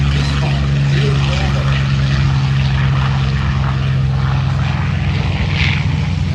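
A P-51 Mustang propeller plane flies at the Planes of Fame Central Coast Airshow, a loud, continuous droning engine roar that holds steady throughout.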